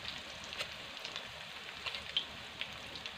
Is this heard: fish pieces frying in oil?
yes